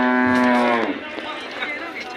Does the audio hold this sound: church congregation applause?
no